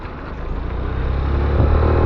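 A motorcycle on a solo road ride gives a steady engine drone that swells gradually, with wind rumble throughout and no talk.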